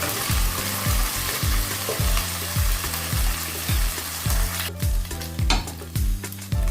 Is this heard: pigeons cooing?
no